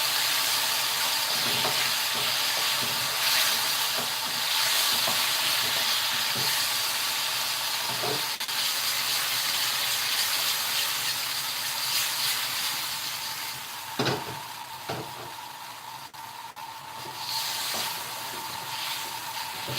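Beef sears in a hot wok with a loud, continuous sizzle and hiss, broken by occasional scrapes and clanks as the meat is kept moving.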